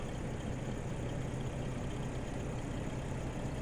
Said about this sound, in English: wow, this truck is still loud